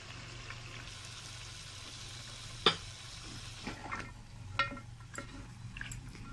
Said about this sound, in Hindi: हल्का सा वेजिटेबल को भी भूनेंगे